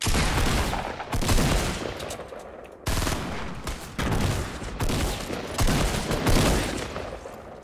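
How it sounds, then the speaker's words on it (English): A shotgun fires in Fortnite, sounding as loud, rapid bursts of gunfire in several clusters separated by brief gaps. "This shotgun thing is so cool."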